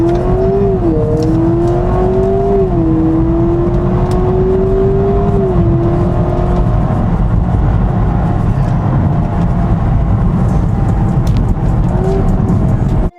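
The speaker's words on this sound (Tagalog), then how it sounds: "do a quick drag with the Civic, full throttle all the way to the V" A 2026 Honda Prelude launches at full throttle in a drag run, its engine rising steadily and then holding a strained high pitch. The sound is loud and continuous, with shifts and wind or road roar beneath it.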